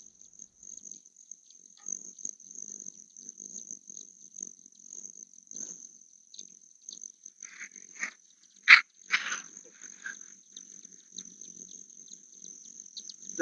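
A few scattered dog barks sound from a distance in Estes Park, Colorado, one sharper than the rest, over a constant high chirring of insects.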